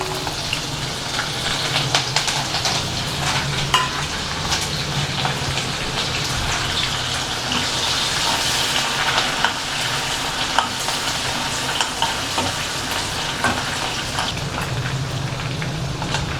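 Mustard seeds, urad dal and green chillies sputter and crackle in hot oil for kuzhi paniyaram tempering, a dense, steady sizzle with scattered sharp pops and occasional stirring, close and without speech.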